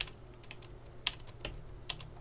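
Computer keyboard keys tapped in a few quick separate bursts with pauses between, close and fairly quiet over a low steady background hum, while entering network configuration commands.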